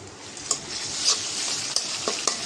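Chopped onion fries in oil with garlic paste and ginger paste in a pan, giving a steady close sizzle broken by a few sharp scrapes and clicks of a stirring spoon. No one speaks.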